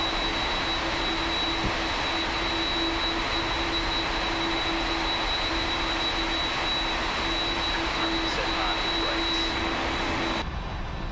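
Jet engines of a PMDG 747 in the Prepar3D flight simulator, running during the start-up at Sydney airport, make a loud, steady roar with a sustained whine that continues unbroken before cutting off abruptly near the end.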